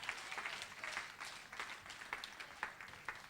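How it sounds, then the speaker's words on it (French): A church congregation claps together in a quick, uneven patter that stays moderately loud and fairly close throughout. "Applaudissez le Seigneur Jésus."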